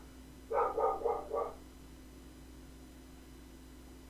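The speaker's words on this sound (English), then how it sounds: "my dog is barking" A dog barks four times in a quick run, fairly close, then goes quiet over a steady low hum.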